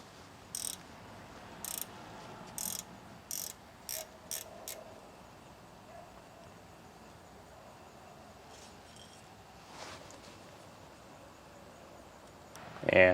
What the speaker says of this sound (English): using the closed end of a 3/8 inch combination wrench and a rubber mallet, I can gently apply some pressure to loosen this bleeder screw